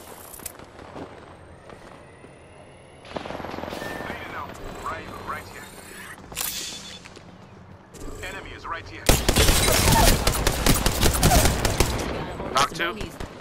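Gunfire in the video game Apex Legends, starting as scattered distant shots, then turning into sharp close bursts and a loud sustained barrage near the end, with a player talking over parts of it.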